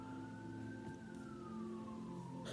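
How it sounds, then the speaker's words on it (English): An ambulance siren wails outside with a slowly rising and falling tone over a low engine rumble, faint and distant throughout. "Do you hear these sirens?"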